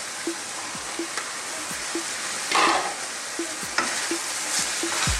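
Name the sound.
stirring frying mince with thyme and carrots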